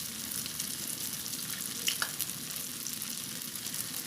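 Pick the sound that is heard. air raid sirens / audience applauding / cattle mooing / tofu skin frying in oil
tofu skin frying in oil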